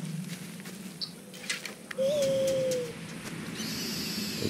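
An owl in the video game Far Cry Primal gives a short hooting call midway through, over a quiet backdrop of in-game ambience and faint clicks, with a brighter shimmering effect rising near the end.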